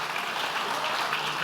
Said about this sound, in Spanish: Dale un aplauso más fuerte al Señor.